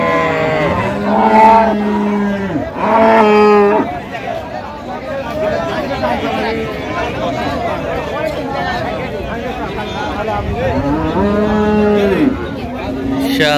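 Dairy cows and calves moo loudly and repeatedly at a busy cattle market, their long bellows rising over a steady babble of nearby voices and crowd chatter.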